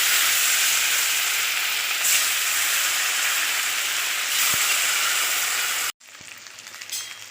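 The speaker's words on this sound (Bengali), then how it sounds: "তো দেখো মাছ এরকম করে ভেজে নিয়েছি" Fish rubbed with salt and turmeric frying in hot white oil in a wok for a fish masala curry, a loud steady broadband sizzle running for about six seconds before cutting off abruptly to quieter kitchen sounds.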